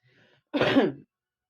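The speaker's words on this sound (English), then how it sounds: "I'm still just a bit coughing and sniffling" A single rough throat clearing with a slight cough, close and fairly loud, lasting about half a second after near silence.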